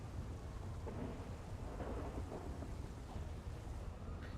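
Thunderstorm with steady heavy rain and low rolling thunder in the FiveM mod of GTA V, a dense continuous roar at moderate level with no talk.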